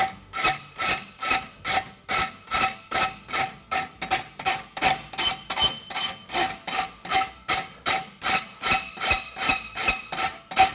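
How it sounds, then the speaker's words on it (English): A farrier rasps the front of a forged steel wedge for a concave hind roadster shoe, producing about two dozen evenly paced, harsh scraping strokes, close up and loud, with no talking. "now I'll start rasping the front of the wedge"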